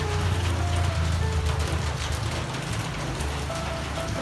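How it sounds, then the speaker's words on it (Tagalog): Heavy rain pouring down outside an office building, a dense steady hiss of drops on surfaces, with low rumbles of passing traffic mixed in underneath. "grabe lakas ng ulan."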